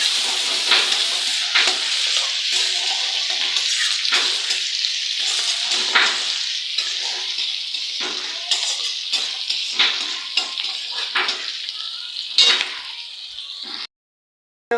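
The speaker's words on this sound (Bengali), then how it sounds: "তারপরে এখানে আছে দেখেন কুচনো রসুন আর কাঁচা লঙ্কা দিয়ে আমি ভালো করে ফ্রাই করে নেব।" Chopped garlic and green chillies frying in a pan, a bright crackling sizzle broken by repeated stirring scrapes and clinks, close and steady until it cuts off near the end.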